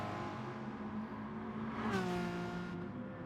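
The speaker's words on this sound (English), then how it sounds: "And that's the way to upshift in the McLaren in GR4." McLaren GR4 race car engine in a racing video game, a steady loud drone that rises and then clicks through an upshift, dropping pitch mid-rev, with no talk.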